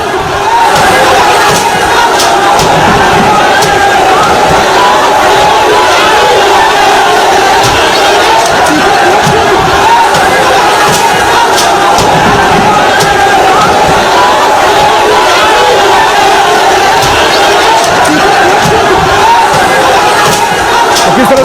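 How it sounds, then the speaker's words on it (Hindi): A large crowd in Sambhal shouts and roars continuously as a maulana stirs it up, dense loud massed voices with battle-cry intensity filling the whole stretch without pause. "यहां देखिए मौलाना किस तरीके से भीड़ को भड़काते हैं"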